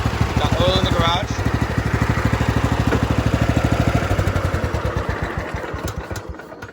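A Husqvarna YTH1542 riding mower's engine idles close and loud with a fast, even putter, and someone talks over it throughout.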